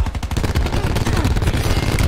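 Rapid gunfire bursts from a Call of Duty Black Ops 4 team deathmatch, dense overlapping automatic shots rattling continuously and loudly with no pauses.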